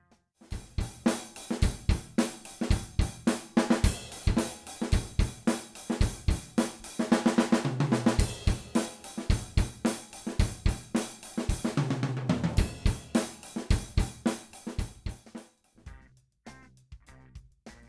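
A drum kit captured with a spaced pair of overhead mics plus a kick drum mic plays a steady rock groove, with punchy kick and snare hits, sustained cymbal wash building in the middle, and a quieter tail at the end.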